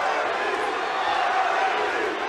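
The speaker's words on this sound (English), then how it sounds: "the crowd chanting both Cabbage and Butterbean" Dense MMA fight crowd roaring and chanting the names of heavyweight fighters Butterbean and Cabbage, a steady broad wall of voices filling an arena throughout the clip.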